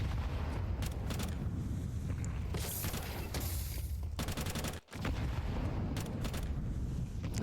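Gunfire and explosive bursts fill a tactical video game match as a grenade is thrown toward the middle, with dense rapid shots, sharp cracks and a brief near-silent gap before the firing resumes loud and close.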